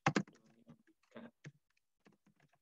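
Typing on a computer keyboard to enter a name into an Excel spreadsheet: a few quick, sharp key clicks at the start, then sparse, lighter taps and soft clatter scattered across a quiet room.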